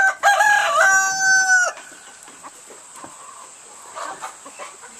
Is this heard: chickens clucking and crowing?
yes